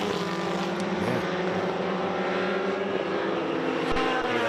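Sports prototype race cars, one an orange machine with a Suzuki GSXR 1000 motorcycle engine, pass at the Adelaide Motorsport Festival with a continuous loud engine roar and no talk.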